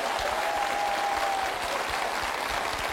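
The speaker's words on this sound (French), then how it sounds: "Qu'on applaudit tous les candidats qui sont là ce soir," Studio audience at a French televised quiz show, Qui Veut Gagner des Millions, applauds the candidates with dense, steady clapping at an even level throughout, with no talking over it.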